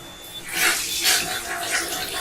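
Strong alkaline Kangen water at pH 11.5 runs onto a clean cloth in a hair salon, a soft, steady splashing hiss that swells in a few gentle surges over a couple of seconds.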